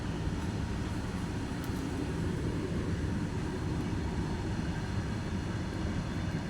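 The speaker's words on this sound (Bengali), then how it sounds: "অনেক তো ট্রেন যাচ্ছে এই যে এই যে ট্রেন যাচ্ছে" A train rolls past in a steady, even low rumble that holds without a break, with no voices over it.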